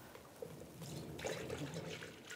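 Coolant, a 50-50 mix, pours steadily through a funnel into a 2011-2018 Ram 1500, with a soft continuous trickling and gurgling, close and fairly quiet.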